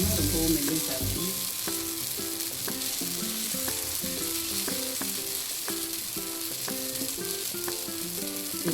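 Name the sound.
adai dosa batter poured onto hot griddle, sizzling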